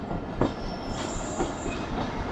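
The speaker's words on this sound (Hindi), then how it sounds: "तो हमारी ट्रेन निकल रही है फाइनली लकी शाह सदर रेलवे स्टेशन से" A passenger train pulls out of Lucky Shah Sadar railway station in Pakistan, a continuous loud rumble of wagons with rhythmic wheel clacks and thin high squeals from the rails, heard alone without voices.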